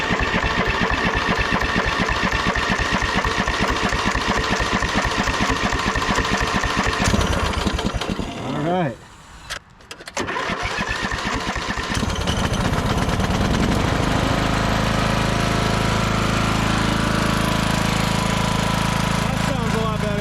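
A 1996 Craftsman LT1000 lawn tractor engine running rough and rattling, briefly dropping out and cranking, then catching and settling into a steady loud idle hum, with a short spoken remark partway through.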